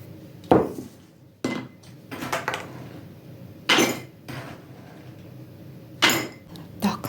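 Dry beans dropped by hand into glass canning jars, giving a handful of sharp, close clinks and rattles at irregular intervals over a quiet background.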